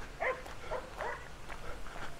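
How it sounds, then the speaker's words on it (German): Several dogs bark at a camper van site by a lake, the barks faint and distant, coming in a loose, irregular series over low background noise. "die hat ein paar Hunde bei, würde ich mal sagen"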